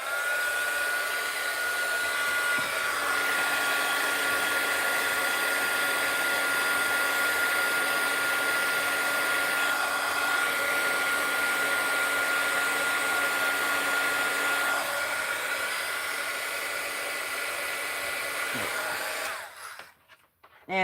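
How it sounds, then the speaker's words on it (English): Heat tool blowing hot air to dry a stamped card, a loud, steady whirring hiss that runs close and unbroken for nearly the whole time before cutting off abruptly near the end. "It's called Get Your Heat Tool Out, Linda. I'll dry it real quick."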